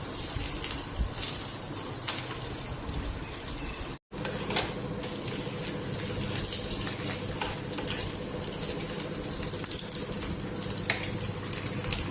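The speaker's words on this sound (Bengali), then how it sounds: "সাদা রুটি মেয়ের জন্য ঘি দিয়ে ভাজা দিই" White bread sizzles as it fries in ghee, a steady loud crackle with occasional stirring scrapes, interrupted by one brief cut partway through.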